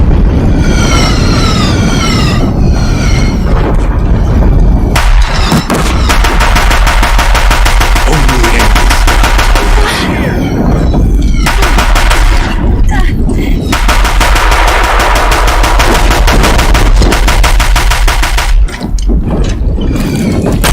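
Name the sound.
Deathbringer machines firing guns in Horizon Zero Dawn video game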